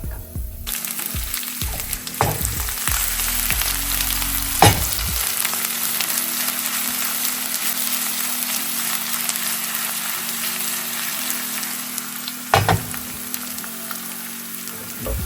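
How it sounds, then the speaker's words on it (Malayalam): Ginger and garlic fry in hot oil with browned fenugreek for a mulberry pickle, a loud continuous sizzle with several sharp clattering stirs near the start and one more toward the end. "അപ്പം ഞാൻ എന്തായാലും ഇനിയിപ്പം ഇഞ്ചി വെളുത്തുള്ളി അങ്ങോട്ട് ഇടുകയാണ്"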